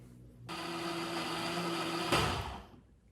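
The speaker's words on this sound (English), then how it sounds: "I will put all the ingredients in the blender." An electric blender whirs through a soy sauce and sugar marinade, starting abruptly into a loud steady motor drone with a brief surge near the end before winding down.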